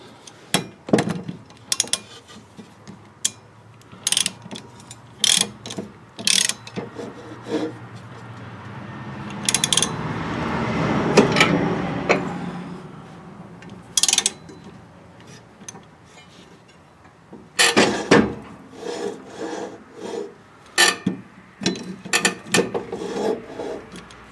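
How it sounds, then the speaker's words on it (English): A ratchet tightens the blade bolt on a Husqvarna lawn mower, giving short, sharp bursts of clicking strokes, close and fairly loud, with a smoother scraping stretch in the middle and several pauses. "Okay, use your ratchet first."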